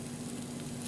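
Cheesy lumpia frying in hot oil, giving a steady dense sizzle and crackle, close and even throughout a brief moment with no talking.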